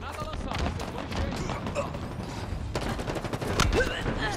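Rapid bursts of gunfire in Halo Infinite multiplayer crackle close by in a continuous volley, loud and dense, with a voice speaking underneath.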